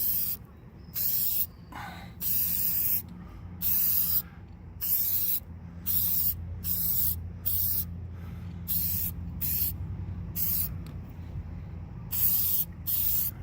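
HyperDip coating hisses from a spray can onto car rims in repeated bursts of about a second each, separated by brief gaps, close and steady with no talk.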